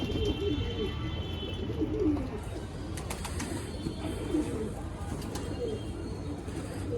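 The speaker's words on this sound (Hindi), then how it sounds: "2 कबूतर आए हैं बाहर के एरे, एक चांदनार एक काला" Low, repeated coos from two pigeons, one white and one black, rolling on and off over a constant outdoor background, with occasional faint clicks and rustles.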